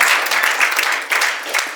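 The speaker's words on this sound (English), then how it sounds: "I saw very few people clapping for me." An audience at a business keynote claps in a brief, fairly loud burst of applause, with individual claps pulsing through the dense patter.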